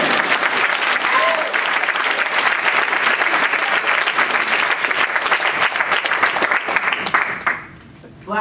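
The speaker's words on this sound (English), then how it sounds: "Y'all can clap for that." Loud, sustained audience applause during a speech by someone in Charleston, SC, thick continuous clapping that fades out near the end, leaving brief quiet.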